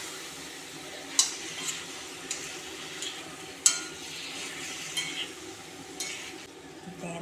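A spoon stirs chicken fry in a pan after coconut milk is poured in, giving soft scraping strokes and a few sharp clinks against the metal over a low, steady sizzle. No one speaks.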